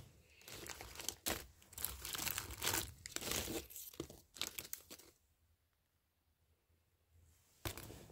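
A plastic bag crinkles and rustles loudly in bursts as a damaged parcel of displays and cables is unpacked, then falls quiet before a final crackle.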